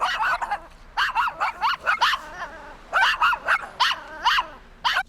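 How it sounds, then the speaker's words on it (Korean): A dog barking at a stranger, a series of close, loud, sharp barks in quick bursts with short yips between them, clearly in the foreground with no talking. "개들이 사회화가 부족할 경우 낯선 사람에게 짖는다."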